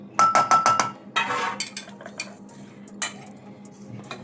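A spoon clinks sharply against a metal vessel several times while mango pickle is mixed with ground moong powder, then softer scraping, stirring and occasional knocks follow under a low steady hum.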